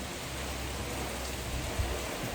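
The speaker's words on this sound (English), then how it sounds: "The rain is coming down hard." Heavy storm rain pours down steadily as a dense, continuous hiss, close and unbroken, with a faint low rumble briefly swelling near the end.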